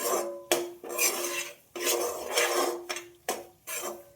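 A metal spoon scraping and stirring ingredients dry roasting in a pan over a medium flame, repeated loud scrapes and clinks in an uneven rhythm of about seven strokes, no talking.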